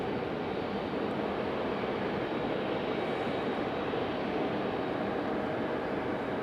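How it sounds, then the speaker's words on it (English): A Boeing 777 taxis at Raleigh-Durham airport, giving off a steady, dense broadband engine roar that holds level and continuous throughout, without clear rises or breaks. "So now you've got the 777 back taxiing all the way back down to FedEx"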